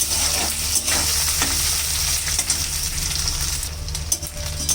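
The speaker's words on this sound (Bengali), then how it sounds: "সেই শুটকিটা এখন আমি ভেজে নিই।" Dried fish seasoned with salt and turmeric deep-frying in hot oil, a strong, steady sizzle and bubbling with stirring over a low background hum, heard up close with no speech.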